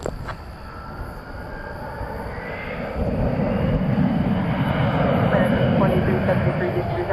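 Jet airplane at DFW Airport at night, a steady engine roar with low rumble that swells louder midway and holds; a voice, likely tower radio chatter, talks over it.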